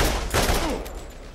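A Carnage shotgun fires in Borderlands, a single heavy blast with a booming tail that fades over about a second.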